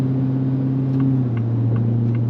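A supercharged 5.2-liter V8 in a Ford F-150 Raptor R pickup idles with a steady, loud low drone and faint whine, holding even throughout without talk.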